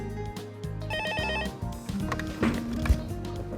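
A telephone rings in a short burst in an industrial park management office, heard over a busy background of clatter and room noise.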